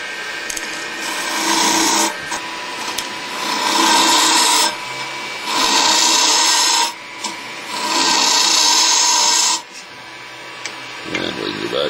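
A hand tool scrapes and rasps inside a wooden acorn carving as it is hollowed out, in four long close bursts of a few seconds each with short pauses between them.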